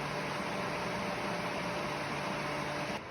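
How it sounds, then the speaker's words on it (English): A Ryobi 4-inch clip fan on high, blowing away from the microphone, hums steadily with a broad airy whoosh and a faint tonal whine, continuous until it drops off near the end. "This is the sound of the fan on high, blowing away from the camera."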